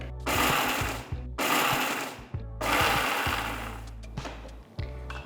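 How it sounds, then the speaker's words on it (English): Dried red chillies pulsed in an electric grinder, three loud whirring bursts a second or so each with brief gaps, then a few short taps and rattles, no talking. "So I'm just going to pulse it."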